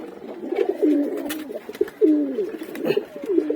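Breeding pigeons coo in repeated throaty, rolling phrases close by, one bout following another with short pauses between.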